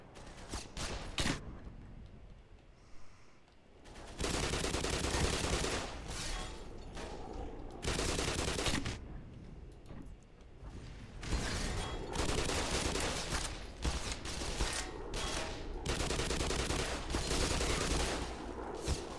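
Turrets in the shooter Half-Life: Black Mesa open up in sustained bursts of rapid gunfire, loud stretches of rattling shots separated by brief lulls, with no talk over them.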